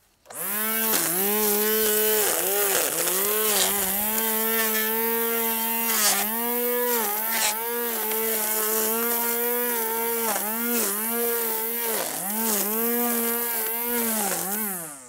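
A Sunjoe 10-inch 2.8 amp electric string trimmer runs near at hand with a loud, high whine, its pitch dipping and recovering repeatedly as the line cuts through growth, with no talking.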